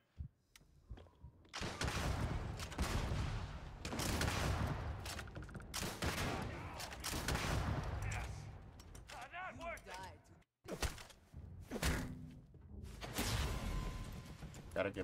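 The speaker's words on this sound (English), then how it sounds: "Gonna switch to the grenade launcher" Starfield video game combat with grenade launcher blasts and gunfire comes in dense, booming bursts separated by short gaps, some layered with tonal game effects.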